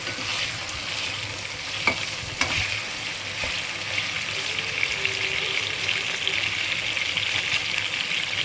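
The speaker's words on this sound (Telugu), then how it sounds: "ఇదిగోండి, వంకాయలు కొద్దిగా వేగినాయి కదండి" Eggplant pieces fry in a pan for a stuffed brinjal curry, with a constant close sizzle and occasional spoon scrapes and stirring knocks, no voices.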